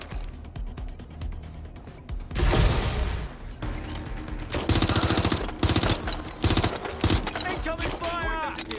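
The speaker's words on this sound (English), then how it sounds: "Suspect has opened fire!" Heavy automatic gunfire erupts in loud bursts during a shootout in the Watch Dogs Legion video game, alternating with shorter volleys and mechanical clicks, with voices briefly calling out between shots.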